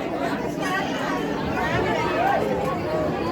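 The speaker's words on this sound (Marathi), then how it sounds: "आज रविवार असल्यामुळे गर्दी खूप आहे" Steady hubbub from a large crowd waiting in a long queue at a temple on a busy Sunday, many overlapping voices close by blending into a continuous murmur.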